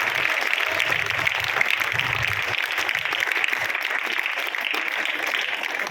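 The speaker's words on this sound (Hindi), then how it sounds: "जोरदार ताली सर के लिए।" An audience at a speech event claps steadily and loudly to welcome a speaker, a dense continuous wash of many hands, with some voices mixed in.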